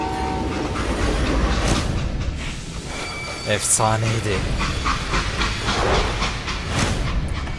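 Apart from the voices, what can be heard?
train running in video game Call of Juarez Gunslinger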